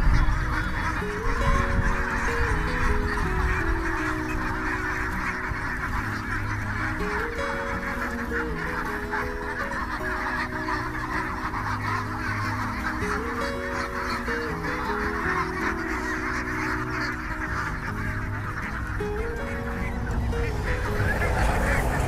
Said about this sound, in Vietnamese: Đây là cảnh những nông dân du mục khi họ cho vịt đi ăn.